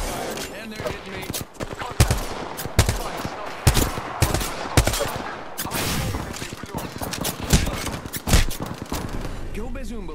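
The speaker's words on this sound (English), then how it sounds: "Shot fired, and they're hitting me" Rapid bursts of automatic gunfire and single heavy shots in Apex Legends, loud and close, a dense fusillade of cracks with thumps, with a voice talking over the shooting.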